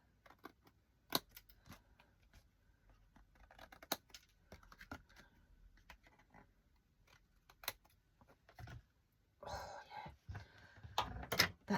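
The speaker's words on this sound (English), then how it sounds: "I'm going to use these scissors" Scissors snipping paper at a quiet crafting table during a paper-folding project, with sparse sharp snips and rustles, then a louder burst of cutting and paper handling near the end.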